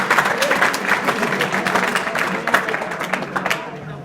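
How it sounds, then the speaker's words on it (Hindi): Students applaud in a school hall during an adolescent education program at an inter college in Azamgarh, a dense, steady burst of many hands clapping together that tapers off after about four seconds. "ताली बजाइए इनके लिए।"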